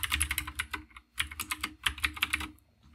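A terminal command is typed on a computer keyboard: quick bursts of close, crisp key clicks, a short pause, then another run of keystrokes tapering off.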